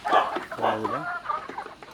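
Loose hens clucking close by, a run of short throaty calls with a longer drawn-out cackle in the middle, mixed with some background chatter.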